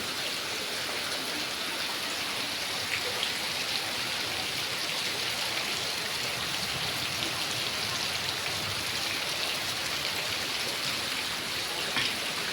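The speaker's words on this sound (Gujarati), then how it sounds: "અહીંયા વરસાદ ફૂલ ચાલુ છે" Heavy rain falls steadily in Ahmedabad, a dense, even hiss of drops drumming on surfaces without a break.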